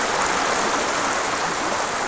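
Village stream water flows steadily in a loud, continuous rushing wash close by, with no voices.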